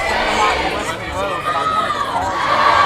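High school baseball crowd at a state championship game getting rowdy, with a loud mix of cheering, shouting and excited chatter from spectators, steady and close throughout.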